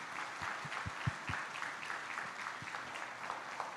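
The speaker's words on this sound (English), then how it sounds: "So let's give everyone a round of applause for supporting our initiative." Conference audience at a Rotary Club mental health event applauds, a faint, steady patter of many hands clapping at a distance, with a few sharper claps standing out.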